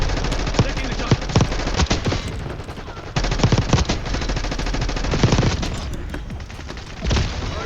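Gunfire in a shooting video game: rapid machine-gun bursts and single shots crackling repeatedly throughout, loud and close, with a brief pause partway through.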